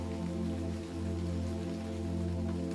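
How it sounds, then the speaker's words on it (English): Steady rain falls on leaves, a continuous even patter with a constant low hum running beneath it and no voices. "the rap of the rain and the timid rustle of leaves on branches"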